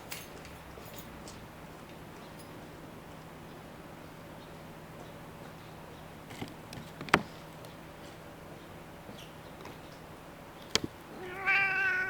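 A cat meows beside a garden cold frame being planted, with one clear, fairly close meow near the end after a long stretch of quiet rustling and a couple of sharp clicks.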